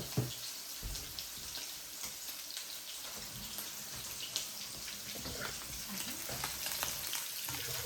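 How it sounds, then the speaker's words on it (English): Running tap water streams steadily over hands being washed at a kitchen sink, a close continuous hiss that may blend with frying in the background, with no one talking. "let me wash my hands"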